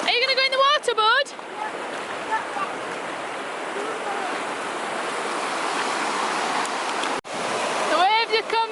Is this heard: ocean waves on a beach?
yes